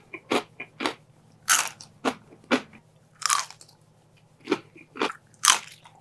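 Crispy fried vegetables served with a sauce are bitten into and chewed. About a dozen sharp, close crunches come in an uneven rhythm, with quiet gaps between bites.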